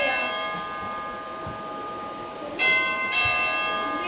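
Doorbell at a home in India ringing twice, with bright sustained bell-like tones; one chime at the start and a louder second ring midway, over faint room noise.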